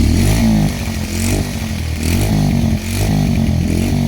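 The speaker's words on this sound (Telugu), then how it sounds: "విన్నారు కదా ఇప్పుడైతే ఇంజన్ సౌండ్. ఇప్పుడైతే దీని బీటింగ్ అయితే చూడండి." A Bajaj Pulsar 125 motorcycle engine running close by, a loud throbbing idle with steady beats that swells in several rolling revs, with no voices.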